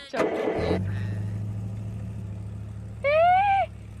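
A car engine runs with a low steady idle hum after a brief start-up burst, continuing evenly under a short chirping tone near the end, with no clear cutoff into silence.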